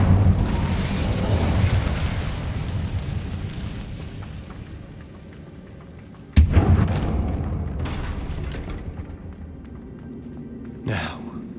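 Fire spells and blasts in Hogwarts Legacy combat: a loud rumbling roar fades out, then a sharp sudden explosion bursts and decays, followed by a later whooshing hit, close and heavy with a voice cry among them.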